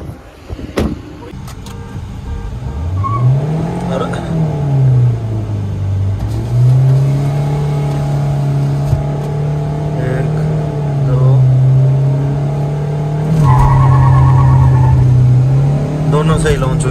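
Old and new Suzuki Swift cars launching side by side in a drag race, a loud engine revving up and holding a steady drone with a gear change, while someone talks excitedly over it.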